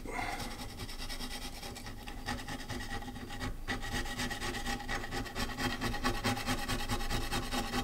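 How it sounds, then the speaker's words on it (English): Old gasket material being scraped off the engine of a Honda TLR200 motorcycle, a continuous close rasping and rubbing with steady repeated strokes, with no speech. "let's get rid of all this old gasket."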